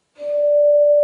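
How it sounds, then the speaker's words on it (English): Sine tones on A and D sound as a perfect fourth, a pure steady pitch that fades in softly and holds evenly, loud and clean with no voices, ending in a click. "This is the perfect fourth."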